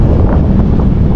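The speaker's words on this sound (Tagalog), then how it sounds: "Mahangin oh, lakas ng hangin." Strong wind roars steadily across the microphone while parasailing high over the sea off Boracay, a loud, constant low buffeting with no speech.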